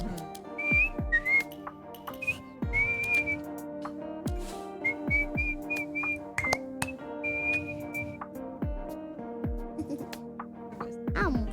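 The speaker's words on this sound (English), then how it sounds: "I'm whistling." Person whistling a wandering melody in short phrases over game music with plucked, bouncy notes during a Duck Detective 2 stream, fairly close and moderate in level.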